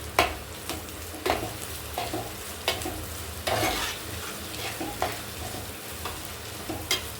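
Curry leaves sauté with onions in a pan for an Aluva-style fish curry. A spatula stirs in repeated scraping strokes over a constant soft frying sizzle, with no one talking.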